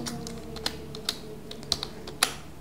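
Keys tapped on a computer keyboard while the length of a cube is entered, a few sparse, crisp clicks spaced irregularly over a quiet room.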